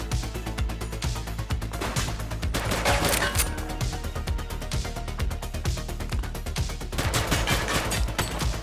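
Rapid automatic gunfire in The Precinct police video game, dense overlapping bursts and single shots rattling continuously and loudly throughout, with no voices over them.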